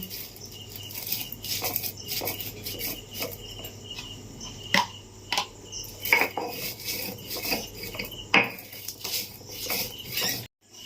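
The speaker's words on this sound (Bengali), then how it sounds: "মশলা ভাজা গুঁড়ো করা হয়ে গেছে।" Roasted cardamom, coriander and cumin ground by hand in a village kitchen, giving repeated scraping and knocking strokes with sharp clinks at irregular intervals over a steady background hum, fairly close and moderate in level, with no talking.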